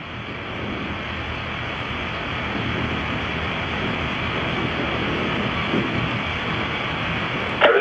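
Soyuz MS-05 rocket with its core engine and four boosters burning liquid fuel during launch gives a continuous, heavy, distant roar that holds steady and builds slightly, with no talk.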